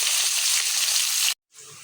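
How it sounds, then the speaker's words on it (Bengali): Water poured into a hot cooking pan for a village fish curry with potato and papaya gives a loud, steady sizzling gush for over a second, then cuts off abruptly, followed by a quieter, fainter hiss. "এখন আমি দিয়ে দেব পানি"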